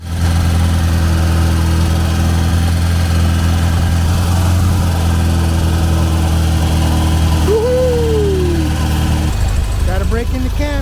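Eight-cylinder dune buggy engine held at a steady high idle around 2,000 RPM during camshaft break-in, a loud continuous drone with a brief rising tone near the end, then a sudden drop as the pitch changes.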